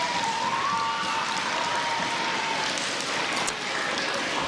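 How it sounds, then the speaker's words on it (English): School community audience applauding a fundraising success, a continuous wash of many hands clapping at a distance in a large room, even and sustained. "Can you give yourself a round of applause?"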